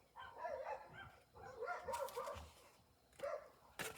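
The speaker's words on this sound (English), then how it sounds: "We have a doggy war outside." Several dogs bark and yip outdoors in repeated bursts, heard from inside at a moderate distance and fairly faint, with a few sharp knocks mixed in.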